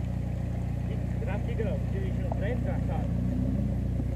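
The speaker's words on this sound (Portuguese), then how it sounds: "o cara controlando o carrinho no controle remoto" A large remote-control car drives along with a steady, continuous engine-like drone, while people talk over it throughout.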